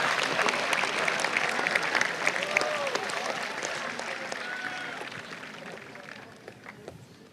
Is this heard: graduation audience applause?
yes